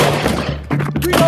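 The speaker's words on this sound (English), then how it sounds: "Shots fired." Rifle gunshots ring out in a police shootout, several sharp cracks in quick succession over a constant steady hum, fairly loud and close.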